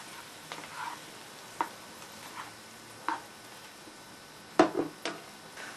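A potato and onion mixture fries in a pan while being turned and stirred, giving a faint, steady sizzle with a few scattered taps and scrapes from the utensil.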